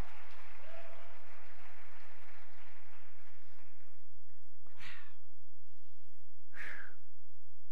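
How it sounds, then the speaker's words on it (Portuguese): Church congregation applauds for the coming of the Lord, a fading wash of clapping at first, then two short bursts of shouted praise, over a steady low electrical hum. "Quem ama a vinda do Senhor, aplauda, dê brado de júbilo, dê brado de aleluia"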